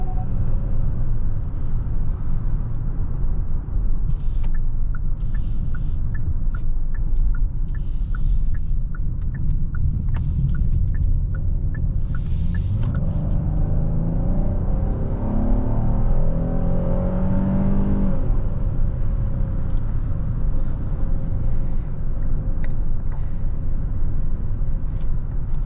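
A 2026 Hyundai Palisade Calligraphy cruising in normal drive mode, a steady low cabin rumble of engine and road noise with light faint ticks, no talking.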